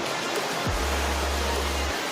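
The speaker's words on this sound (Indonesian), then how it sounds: "di air terjun Antrokan yang ada di Kabupaten Jember" Antrokan waterfall in Jember regency gives a constant broadband rush of falling water, close and steady, with a deep low rumble swelling in for about a second midway.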